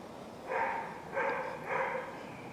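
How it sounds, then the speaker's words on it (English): Dogs bark in the side yards of a home orchid garden, three faint, distant barks spaced about half a second apart over a quiet outdoor background. "sorry for the dogs barking in the side yards there"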